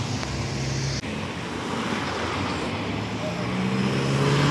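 Cars passing along a city street in La Plata, a steady roadway rumble with vehicles swelling and fading nearby, a brief knock early on and traffic growing louder toward the end.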